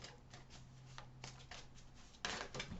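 Tarot cards are shuffled by hand, a series of soft rapid riffling bursts close by, ending in a louder flurry, with a faint steady hum underneath.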